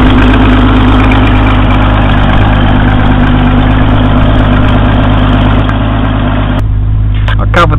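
A Mustang's 3.3 litre straight-six engine idles steadily and loudly close by, a constant low rumble throughout, with a brief rattle of handling noise near the end.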